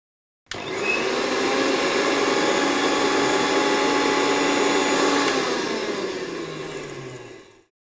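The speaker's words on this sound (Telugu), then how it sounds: "మూత పెట్టేసి మిక్సీ చేసుకోవాలి." A kitchen mixer grinder runs steadily for several seconds, grinding a masala of salt, chilli powder and turmeric for a brinjal bagara dish, with a loud continuous whir that starts abruptly and winds down at the end.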